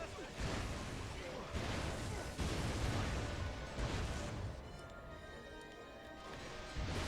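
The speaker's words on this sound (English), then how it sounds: "Big explosions." Dense, repeated booms and crashing blasts from explosions in the video game Ratchet and Clank: A Crack in Time, quiet in level and layered with constant game noise while players talk.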